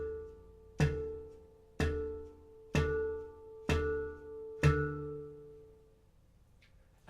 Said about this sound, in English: This variation is a central note harmonic isolation where I let my finger hang over the dome